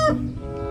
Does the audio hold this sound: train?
no